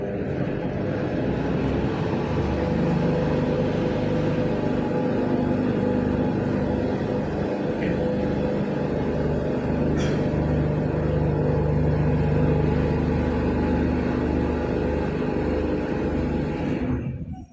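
The motorized movable floor of the Bosscha Observatory dome in Lembang, Bandung, is being lowered, giving a steady, loud mechanical rumble and hum. It runs unbroken for about seventeen seconds and stops abruptly at the end.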